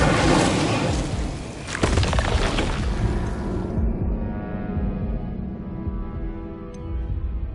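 A fire spell cast in Hogwarts Legacy bursts out as a loud, roaring whoosh with a sharp thud near the start, then fades into a low rumbling crackle that trails off over several seconds, with no talking.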